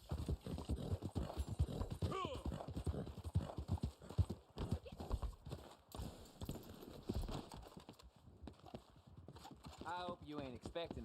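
Horse hooves clip-clop steadily in Red Dead Online, a repeating rhythm running under near-continuous talking, with a brief whinny partway through.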